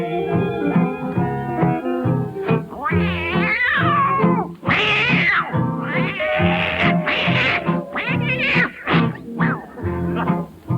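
A voice imitates an old tomcat fight, yowling and caterwauling in long, rising and falling wails and screeches, loud and close with brief pauses between cries.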